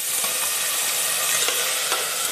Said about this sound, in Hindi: इसी में हम ये चावल डाल देंगे